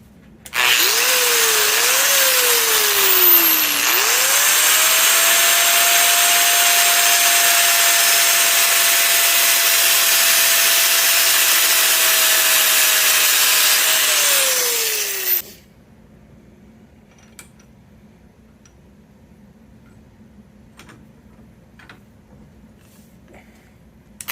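A power tool cuts about 1/8 inch off the ends of front mount shifter parts, running loud and steady with a rising whine for roughly fifteen seconds before stopping, followed by quiet workshop background.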